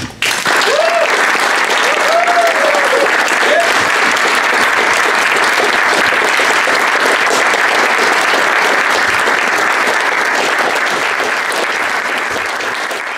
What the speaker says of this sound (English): give them a resounding round of applause